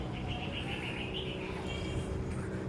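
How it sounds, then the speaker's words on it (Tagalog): Birds chirp and call in a steady chorus from nearby trees, with insect-like trilling and a constant low background hum. "Yan yung mga ibon natin."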